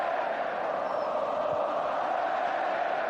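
Broad roar of a football stadium crowd of Barcelona supporters at the Grand Stade de Tangier chanting olé, a steady distant wash of many voices with no break across the few seconds.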